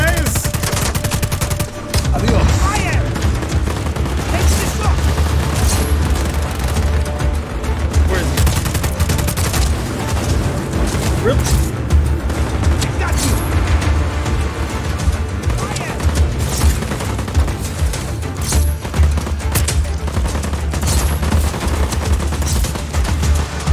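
Sustained automatic gunfire in Just Cause 4 combat, dense rapid bursts and fusillades with occasional booms, loud and continuous for over twenty seconds while someone shouts and talks over it.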